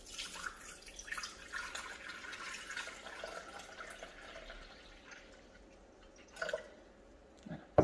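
Water pours from a kitchen tap onto a container set on a kitchen scale, a faint, soft trickle and drip with a brief splash near the end, quiet and without talk.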